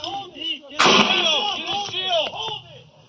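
Repeated sharp gunshots ring out during a chaotic roadside hostage standoff after a traffic stop: one loud blast followed by several more spaced shots, with shouting voices and talk throughout.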